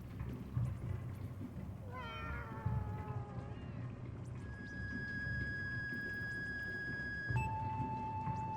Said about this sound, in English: Listen for the meows.